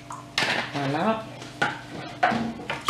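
A spoon stirs a milk and yogurt mixture in a bowl for homemade fermented yogurt, making a few distinct clinks and scrapes against the bowl at an irregular rhythm, close by.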